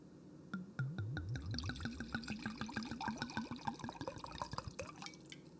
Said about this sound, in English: Let's get the pour.